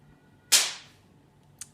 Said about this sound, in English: My kids are pulling off poppers,